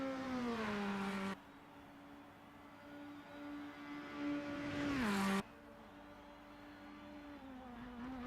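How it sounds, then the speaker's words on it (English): F3 and Formula Inter race cars scream past at Interlagos, loud high-revving engines with sharp gear changes and a Doppler drop as each car passes close by, one after another, with no talk. "As there goes Bob Damos to start his final lap of the race in the lead."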